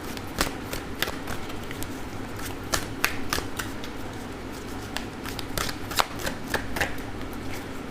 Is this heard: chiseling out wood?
no